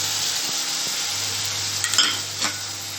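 Boiled peas stirred into tomato gravy frying in oil for a methi matar malai sabji: a steady close sizzle runs throughout, broken by a few soft scraping strokes of the spoon near the end.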